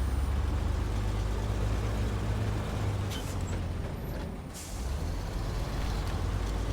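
A heavy truck brakes in SnowRunner over a steady, loud diesel drone, with a hissing air-brake release that briefly dips the engine rumble before it swells back up.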